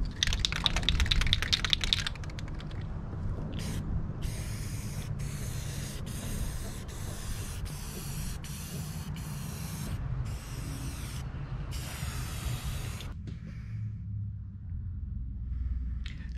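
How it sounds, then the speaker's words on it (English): An aerosol can sprays matte black paint onto a wooden board for a hidden car-trunk setup, in a string of short, close hissing bursts of about a second each with brief gaps between them. A low background rumble runs throughout and no one speaks. "So I'm going to go ahead and give her a few coats of paint."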